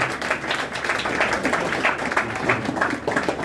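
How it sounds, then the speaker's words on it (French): Lively applause from a church congregation, dense continuous clapping that stays fairly loud and even for a few seconds. "On nous applaudit cette mondiale évangéliste."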